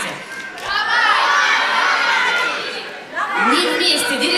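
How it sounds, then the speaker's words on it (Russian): An audience at a jazz concert shouts and cheers encouragement in a loud, dense burst of many voices, easing briefly before a second wave of shouts swells up again. "А еще можно на концертах джазовых кричать что-то типа «Давай, Вадик!»"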